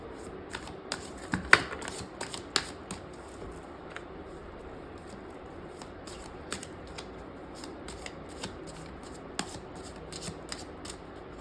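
A deck of tarot cards is shuffled by hand near the microphone, with rapid crisp riffles and flicks that come in short bursts over a low, steady room hum.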